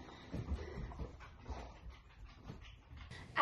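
A large dog whimpers and pants softly nearby indoors, faint uneven whines and breathy sounds running through the whole stretch, ending on a brief louder noise.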